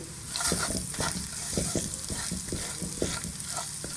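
Spiced minced meat keema filling with ground coriander and crushed cumin sizzles in a pan while a spoon stirs it, giving repeated scraping strokes over a constant frying hiss, close and moderately loud.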